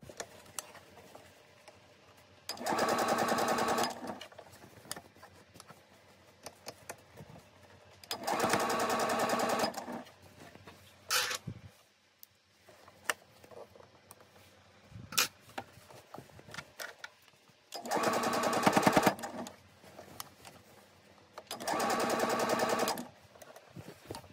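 A sewing machine stitches fabric for a compartment case for a toothbrush and toothpaste, running in four steady buzzing bursts of a few seconds each, with quiet fabric handling and small clicks in the pauses between them.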